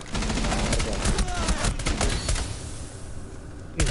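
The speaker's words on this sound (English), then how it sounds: "These weak ass cannons." Rapid bursts of cannon fire from a Rainbow Six match crackle loudly and densely for the first two and a half seconds, then thin out before one last sharp blast near the end.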